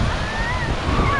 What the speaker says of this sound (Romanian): Și am ajuns pe plajă.